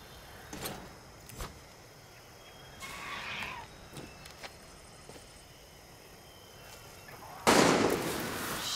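Scattered gunshots sound in the Far Cry 6 video game, several sharp cracks spread across the clip at a moderate distance, ending in a louder burst of noise near the close.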